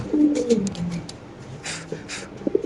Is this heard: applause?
no